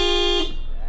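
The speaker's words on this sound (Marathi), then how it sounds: "तुम्ही आता हॉर्न चालते का बघूया." A vehicle horn being tested blares a loud sustained honk for about half a second, then cuts out abruptly as it works only intermittently, leaving a faint background.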